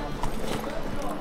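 Roach the horse gallops in The Witcher 3, with quick hoof clip-clops under a steady game backdrop and a voice talking over it.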